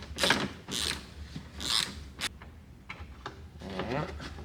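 A ratchet clicks in short bursts while loosening a bolt on a 2021 Ram 2500 Limited, several quick rattling runs separated by pauses, close and moderately loud with faint talking between.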